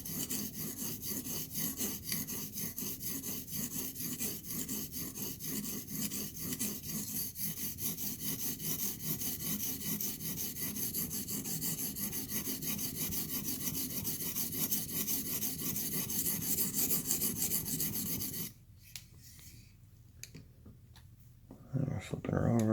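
A knife edge being sharpened from the belly toward the tip, a steady rhythmic rasping of repeated strokes for a long stretch, then it stops and quieter handling sounds follow.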